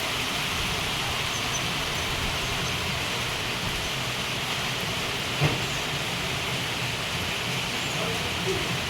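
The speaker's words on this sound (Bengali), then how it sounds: "খুব জোরে জোরেই এখন বৃষ্টিটা হচ্ছে বন্ধুরা" Heavy rain pours down in a steady, dense hiss, with one brief knock partway through.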